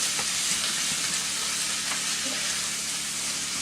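Green peppers fry and sizzle steadily in a pan for a cabbage and turkey sausage dish, with faint scraping from stirring over a continuous hiss; no voices.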